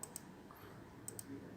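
Faint computer mouse clicks during a Windows partition setup: two quick double-clicks, one at the start and one about a second later, in a quiet room.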